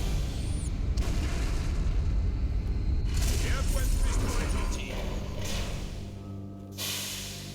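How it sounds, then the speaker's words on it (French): A grenade explodes in Halo: Reach, a deep rumbling boom that swells under dense battle noise and rolls off gradually, with someone talking over it. "Grenade."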